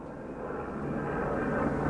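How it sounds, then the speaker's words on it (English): A firefighting helicopter flies overhead above Death Valley during a wildfire, its engine and rotor making a steady, broad distant roar that slowly swells louder over two seconds, with no voices. "helicopters. Like this one is now flying back"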